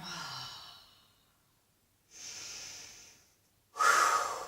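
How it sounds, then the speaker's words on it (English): During a yoga session, a slow exhale fades out, then a long audible inhale through the nose follows, ending in a louder, breathy release, close and clear with no speech. "Big breath in and exhale."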